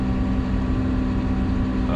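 A Cat 938 wheel loader in hill climb mode idles steadily as it creeps up onto a trailer bed, a continuous low diesel rumble with a constant hum, loud and close with no talk.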